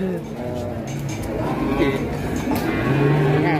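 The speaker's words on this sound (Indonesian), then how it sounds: "Ini ada sapi India ini." Indian cattle moo at a busy livestock market, with low drawn-out calls under constant crowd noise and nearby talking.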